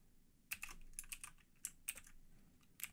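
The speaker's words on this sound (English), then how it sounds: "Type in the IP address of the server." Quick keystrokes on a computer keyboard entering a server IP address, a few short bursts of clicky taps separated by brief pauses, close and fairly quiet.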